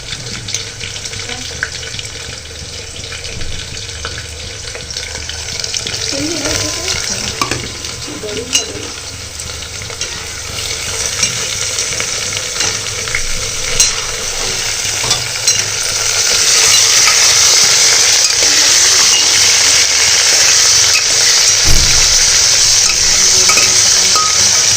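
Green chilies and tomatoes hit a hot pan with spices and fry in a continuous hiss that grows louder and denser partway through, with occasional stirring clinks.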